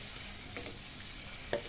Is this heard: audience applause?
no